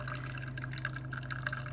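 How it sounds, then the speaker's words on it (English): A Black+Decker CM618 single serve coffeemaker brewing with bottled water gives soft, faint, steady dripping and trickling, heard alone without voices. "So I can still hear it brewing."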